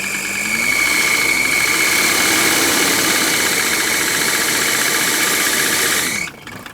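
Mercedes W123 300TD turbo diesel wagon engine raced up to a loud, steady roar with a high belt squeal riding on top, held for about six seconds before the revs drop away sharply.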